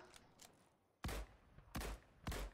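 Gunfire in the video game Fortnite: three loud, punchy shots in quick succession after a quiet stretch, with faint, softer pops earlier.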